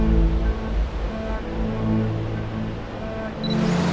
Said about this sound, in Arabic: هذا وادي شلالات.